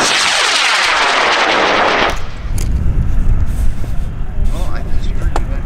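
A high power rocket launches from the pad at a large rocket meet, opening with a loud tearing roar that cuts off after about two seconds, followed by rumbling, crackling echoes and outdoor crowd noise.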